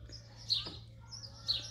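Young chicks give two faint, high chirps about a second apart near a rabbit hutch, with a low steady hum underneath.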